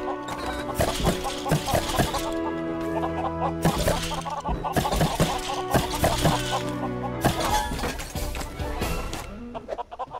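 Chickens cluck repeatedly in Lego Worlds, with bursts of bright, clipped clucking that come and go over a continuous tonal game backdrop and a farm-quest setting.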